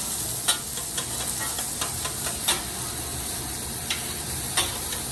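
Butter sizzling in a hot pan with garlic and meat, a steady frying hiss with a few sharp crackles and pops over it, close and alone with no talking.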